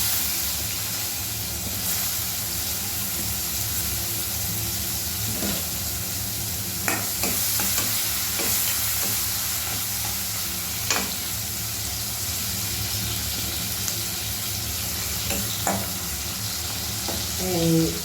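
Capsicum fries in a pan for eggplant bharta, a continuous loud sizzle with scattered clinks and scrapes of stirring throughout.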